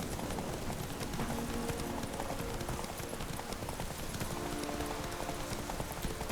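A horse gallops in The Witcher 3: Wild Hunt, with steady rhythmic hoofbeats running close and even for the whole stretch and no talking.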